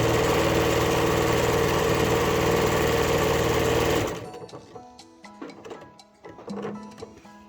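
A sewing machine stitches through three layers of an iPad or book pouch, a loud steady whirring run that stops abruptly, followed by quiet clicks and handling noise.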